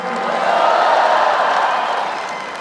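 A large crowd at a national solidarity declaration event applauds and cheers in a dense, sustained roar that swells and then slowly fades.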